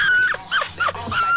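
Dog whimpering and yipping in a few short high-pitched bursts, loud and close, during an NBA 2K19 basketball game session.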